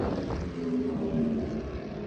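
Racing motorcycles, including a Ducati Panigale, rev hard around the A1 Motor Park circuit, heard as a steady droning engine roar from a distance, with a wavering tone and no pauses.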